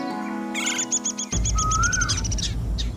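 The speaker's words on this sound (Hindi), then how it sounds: "ऊपर उस पेड़ पर कितनी सुंदर चिड़ियाएं बैठी हैं।" Small birds chirp in a tree, a run of short, rapid, high tweets with one longer whistled call, steady and fairly close over a low background hum.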